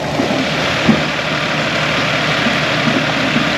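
A 60-horsepower tractor engine runs steadily beside an oyster boat at Clay Lagoon, an oyster farm near Port Arthur, giving a constant low idling drone with no voices.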